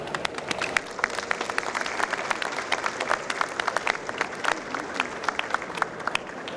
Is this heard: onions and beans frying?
no